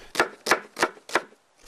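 Sharp knife blows on a cutting board as skate fish is chopped at home, four evenly spaced close thuds followed by a pause and the start of a fifth, with no talk.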